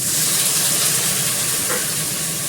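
Food fries in a pan with mustard seeds, giving a steady, close, loud sizzle and hiss that continues evenly throughout with no talking.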